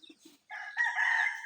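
A rooster crows on a hillside farm in San Francisco, Quezon, one loud drawn-out call that swells and holds after a few soft clucks, with no talk over it.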